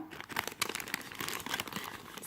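Japanese candy kit packaging being cut open, with close, steady plastic crinkling and rustling.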